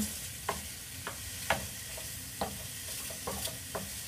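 Shrimp fry in a pan with a faint, steady sizzle and a series of light, regular spatula taps and scrapes roughly every half second, with no one speaking.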